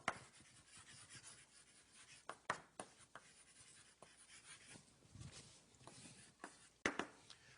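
Chalk writing on a board during a lecture, quiet scratchy strokes with several sharp taps and clicks as the chalk meets the board, spaced irregularly with pauses between.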